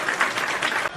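Audience applause during a live wrestling talk show, a brief burst of dense, loud clapping with some voice underneath that cuts off near the end.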